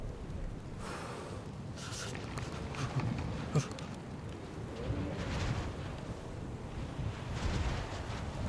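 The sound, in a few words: wind blowing in the video game DayZ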